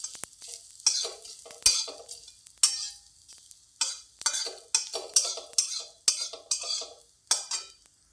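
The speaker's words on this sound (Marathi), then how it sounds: "तो कांदा काळा केला होता ना त्याला पण तेलात भाजून घेऊ" An onion roasting in oil in a kadhai for a tur dal amti, with rhythmic scraping stirs of a metal spatula against the pan over a faint sizzle, close and quiet with no voices.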